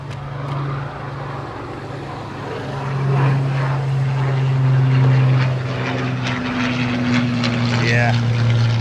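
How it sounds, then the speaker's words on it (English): A propeller aircraft, a Hawker Hurricane interceptor, drones steadily as it flies at an air display, the engine tone swelling and shifting as it passes, with crowd noise and voices talking beneath it. "This is that night fighter Hurricane, I think."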